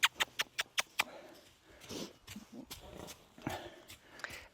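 Horse hooves thud in a round pen during lunging, with a quick series of sharp, evenly spaced clip-clop impacts close by at first, followed by softer, irregular footfalls and shuffling.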